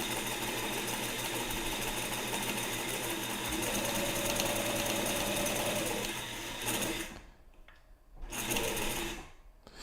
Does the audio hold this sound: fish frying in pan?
no